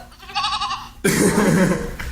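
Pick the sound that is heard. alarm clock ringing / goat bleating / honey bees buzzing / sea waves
goat bleating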